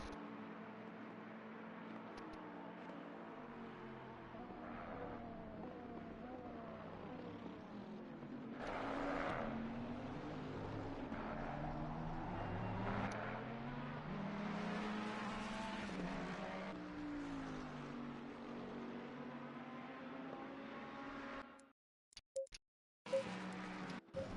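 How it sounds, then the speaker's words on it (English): Racing cars lapping the Monza circuit in a PS4 racing game, an older Jaguar battling a newer Ferrari, with Bentley also in the field; steady layered engine drones rise and fall through gear changes, ending in brief broken bursts. "GamerDad's giving it all he can. In that old Jag against this newer Ferrari."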